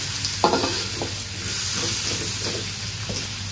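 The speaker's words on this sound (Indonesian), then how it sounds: "So kita masak labu kuning ni dahulu." Pumpkin pieces cook in a pan with a steady close sizzle and frying hiss, broken by a few soft stirring scrapes, with no voices.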